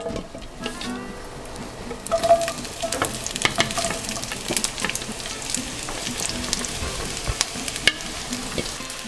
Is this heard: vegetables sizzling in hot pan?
yes